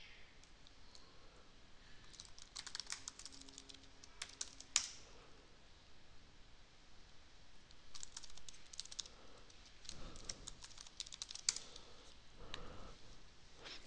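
Quiet keys clatter on a computer keyboard as a password is entered at a login prompt, arriving in short irregular bursts of clicks with pauses between them, faint and close against a low background hiss.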